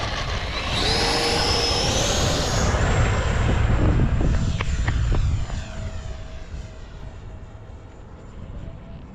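An FMS F-15 Eagle RC model jet sweeps past with a loud whooshing turbine whine. The pitch drops as it flies by, and the sound fades steadily into the distance with no talking.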